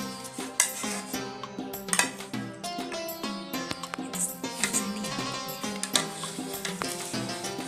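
Metal serving spoons scrape and clink against a pot and plate while layered chicken biryani is dished out, producing a busy run of close, irregular clatters and taps.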